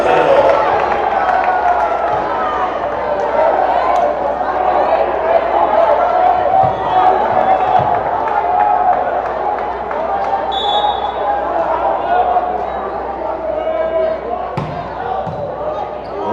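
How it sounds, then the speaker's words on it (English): Crowd noise in a gym during a men's college volleyball match, Carthage against North Central, with a steady roar of voices, scattered shouts and a few thumps of ball and feet continuing throughout. "Getting the crowd back into this one."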